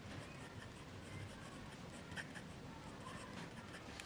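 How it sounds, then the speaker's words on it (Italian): Fine extra-fine Sailor Shikiori lacquered nib fountain pen writing on paper, a faint, steady scratchy rasp of strokes continuing throughout without talk. "questo qua scrivo è lo Shikiori, che è un pennino, diciamo, laccato, non è placato, non è il pennino in oro"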